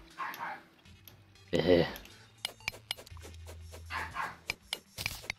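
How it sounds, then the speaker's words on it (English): Dogs barking in the video game Terraria, short yipping barks in a couple of bursts alongside clicks and clattery game effects, with a person speaking briefly between them. "Ignore the dogs, because they're a bunch of derps."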